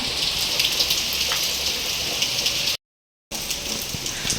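Steady, dense rain pattering on a surface, a constant hiss that briefly cuts out before resuming, with no voices.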